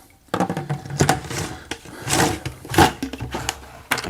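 Plastic and metal clicks, knocks and rattles as the spray gun is detached and swapped on a SunJoe SPX3000-XT1 pressure washer, a close series of irregular handling sounds with short pauses between them.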